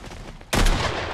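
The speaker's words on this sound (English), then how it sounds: "Gabe, that was the sniper." A single sharp sniper rifle shot in the Fortnite video game, a loud sudden blast that cuts in halfway through and rings out briefly.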